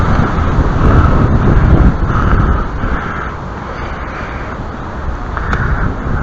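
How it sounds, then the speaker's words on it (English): Loud, steady wind gusting outdoors during drain spout repair in humid weather, a broad constant roar across the whole stretch that swells slightly near the start and settles into a continuous rush, with no talking. "we got the frickin' wind to actually benefit us"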